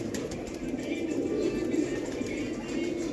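Pigeons kept by a fancier coo softly in a steady low murmur, close but faint, with occasional faint wing rustles and no voices.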